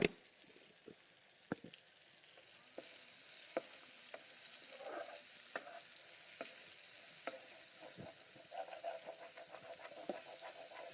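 Tamarind curry being stirred in a pot, the spoon scraping along the bottom in sharp, irregular clicks over a steady soft sizzle, close and without voices.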